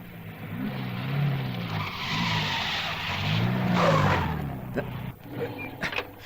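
A car's tires skid and squeal as it spins around during a night pursuit on a road blocked by jeeps, a broad sustained screech with engine rumble, loud and close, followed by sharp thumps at the end.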